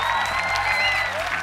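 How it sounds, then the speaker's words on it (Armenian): Audience clapping at a gala show, a dense, steady burst of many hands heard close and loud for a brief moment. "ծափահարությունները"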